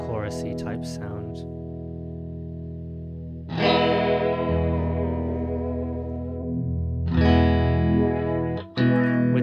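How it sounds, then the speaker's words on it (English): Sustained electric guitar chords shimmering through a Chase Bliss chorus pedal, rich and swirling, ringing out loud with a brief break between strums. "introducing the wet there for our chorusy type sound."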